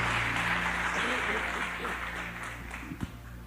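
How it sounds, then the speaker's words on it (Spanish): A church congregation applauds, a continuous wash of hand-clapping filling the room at moderate volume, with a few louder claps near the end. "Aplauda al Rey."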